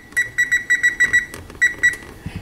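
A kitchen timer gives a run of short, bright electronic beeps in quick groups as buttons are pressed to set it, close and clear, ending with a couple of faint low knocks.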